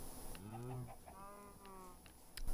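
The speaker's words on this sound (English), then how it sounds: "His chickens with his horse." Chickens cluck in the Minecraft video game, kept in a farm enclosure beside a horse, donkey, cows, sheep and pigs. Several short clucks rise and fall across a couple of seconds at moderate volume.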